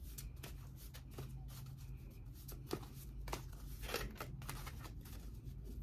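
Tarot cards being shuffled by hand, with soft riffling and flicking bursts repeating at irregular intervals over a low, steady background hum.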